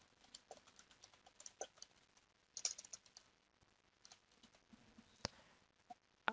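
A name is typed on a computer keyboard, with quick, soft key clicks in short irregular bursts, close but quiet, and a few sharper taps between them.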